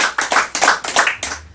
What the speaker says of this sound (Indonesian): Kita kasih tepuk tangan semua.